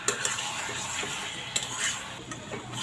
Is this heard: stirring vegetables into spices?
yes